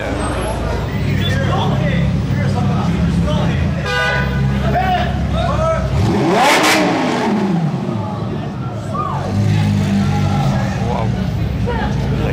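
Supercars rev loudly at a Gumball 3000 gathering in Nice, with a roaring engine sweep rising and falling mid-clip, car horns tooting and a crowd talking throughout.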